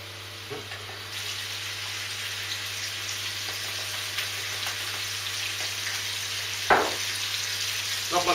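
Stew meat browning in a hot pan, a faint, steady sizzle with a few soft clicks and one sharper scrape as the pieces are turned.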